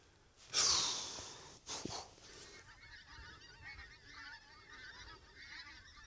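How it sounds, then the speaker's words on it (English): Geese honk loudly in a short burst nearby, then a few fainter calls trail off against quiet outdoor background in a Lake District mountain valley. "Can you hear the geese? Can you see the geese?"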